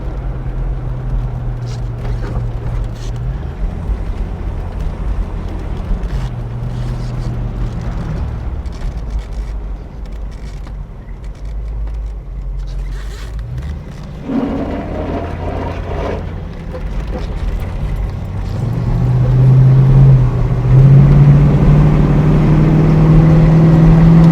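Mercury Cougar V8 fitted with a Mustang exhaust kit, its carburetor not yet tuned, idles with a deep steady rumble close by, then revs up and grows louder toward the end.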